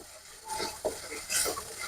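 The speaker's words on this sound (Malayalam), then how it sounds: "ഞാനത് അരച്ചത് ചേർത്തിട്ട് ഒന്നും കൂടി വഴറ്റണം കേട്ടോ" Ground spice paste is sautéed in a pan for a Kerala-style tuna curry, giving a soft, faint sizzle with a few brief stirring scrapes over roughly two seconds.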